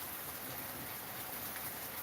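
Rain falls as a steady, dense hiss throughout, even and unbroken with no voices.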